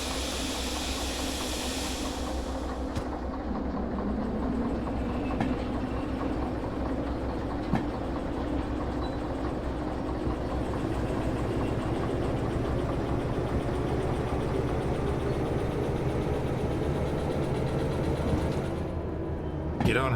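A locomotive in the train game Derail Valley rumbles and moves along steadily, with a continuous engine drone and faint rattling throughout, and a voice talks over it.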